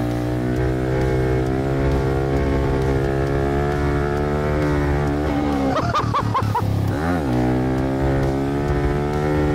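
A Honda CRF300L motorcycle with an air boot mod pulls in third gear, its engine giving a loud, steady harmonic drone that briefly rises and wavers in pitch partway through.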